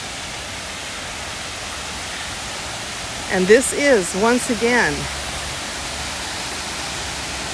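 Waterfall at Hayden Falls nature preserve, running high with the river up, gives a steady broadband rush throughout, with someone briefly talking over it midway.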